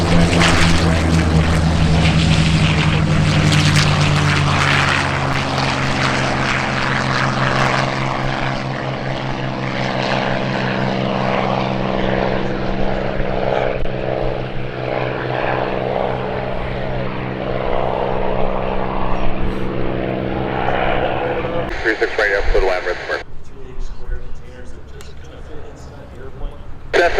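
Propeller airplanes landing at EAA AirVenture Oshkosh, with loud sustained engine drone and propeller buzz close by, then fading, as an announcer talks over the noise.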